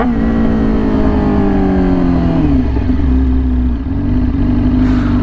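Yamaha R6 motorcycle with a very loud aftermarket exhaust, its steady engine drone stepping down in pitch as it downshifts to first, loud and close with no talking.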